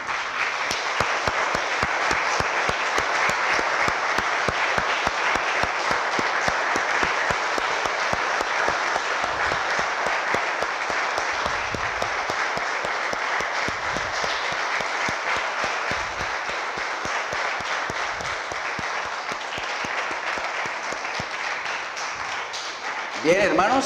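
A church congregation applauds, sustained dense clapping from many hands filling the room for over twenty seconds before fading as a voice begins to speak.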